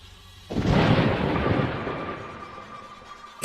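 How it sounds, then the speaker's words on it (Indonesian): A thunder sound effect in an audio drama: a sudden loud crack followed by a long, rolling rumble that slowly fades, with a sharp burst returning at the very end. "tiba-tiba ada guntur."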